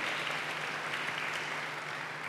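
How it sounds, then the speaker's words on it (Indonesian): Congregation clapping steadily throughout a church worship service, a dense, continuous wash of applause with no talk over it. "Tepuk tangan bagi Allah kita."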